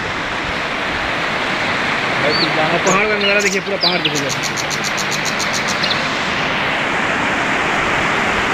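Steady broadband rush of a mountain waterfall and river flowing between hills at the Triveni river in Nepal, loud and continuous, with someone talking over it throughout.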